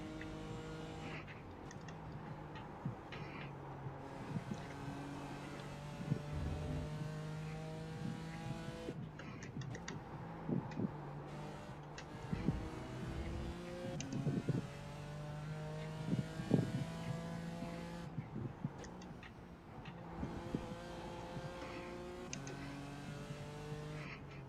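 A BMW M4 GT4 race car engine roars in the iRacing video game at Brands Hatch, revving up and down through gear shifts in a continuous, moderately loud drone.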